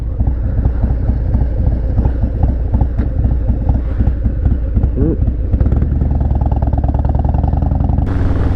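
A 2020 Harley-Davidson Low Rider S with an aftermarket exhaust rumbles loudly and steadily at idle, its deep throaty exhaust note pulsing close by, with a shift in tone near the end.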